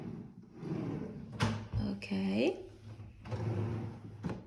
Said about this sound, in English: We have some drawers here.